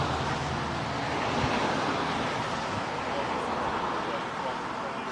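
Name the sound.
wind blowing outdoors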